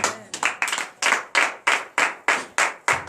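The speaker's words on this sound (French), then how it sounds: "Donnez l'acclamation au Seigneur Jésus." A church congregation at a morning prayer service in Benin claps in a strong, regular rhythm, about ten sharp loud bursts of many hands striking together in unison.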